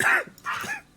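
A dog gives two short barks close by, each a sharp rough burst with a brief gap between them, and nothing else is heard around them.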